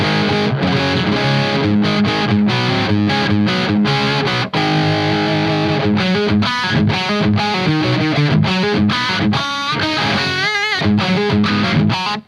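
A distorted electric guitar played through a Dunlop signature wah pedal plays rhythmic chords and riffs, with a swept, vocal-like filter shifting the tone, loud and close with no talking.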